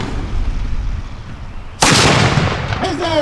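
A cannon fires at a militia muster day demonstration: one sudden, very loud blast after a stretch of noisy outdoor quiet, followed by a long rumbling roar that slowly fades.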